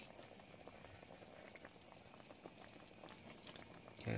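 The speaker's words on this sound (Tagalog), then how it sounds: "Kapag nakikita po natin nga kumukulo yan" Liquid for tochong bangus boils in a pot as flour or cornstarch thickener is about to be added, giving a soft, steady bubbling simmer that ends with a brief clunk.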